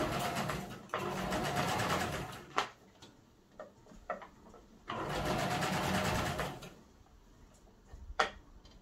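A sewing machine stitching over the seam of a fabric peg bag, two steady whirring runs of rapid needle strokes separated by quiet pauses with clicks and handling noises, close and clear.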